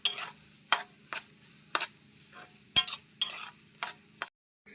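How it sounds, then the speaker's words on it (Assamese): Chilies dropped into hot oil in a pan taken off the heat for an Assamese chili pickle, giving crackling sizzles and stirring clinks in a sparse, irregular series of close bursts. "তেলখিনি ধুনীয়াকৈ গৰম হোৱাত এনেকৈ নমাই আনি মাটিত জলকীয়াখিনি দি ল'লোঁ"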